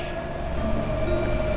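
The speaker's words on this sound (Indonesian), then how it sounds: "Oke, kita naik teman-teman ya. Yang kereta di sini ya." A train ride in the Minecraft video game gives a steady rolling rumble with a sustained mechanical hum and faint high whines layered on top, continuous and fairly loud with no talk.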